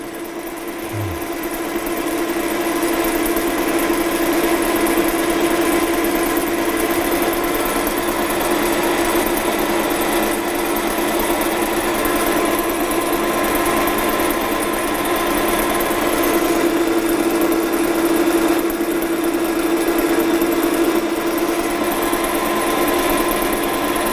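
A metal lathe turns a metal workpiece during a fitting and turning lesson, a steady, loud mechanical hum with a sustained tonal whine that runs unbroken throughout, with no talking.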